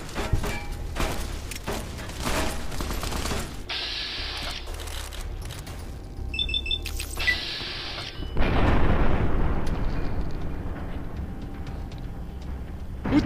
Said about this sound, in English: Who threw a grenade at me?